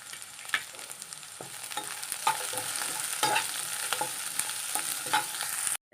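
Curry leaves and green chilies sautéing in oil in a pan for a fish curry, a steady close sizzle with repeated scraping stirs of a spoon against the pan, no voices.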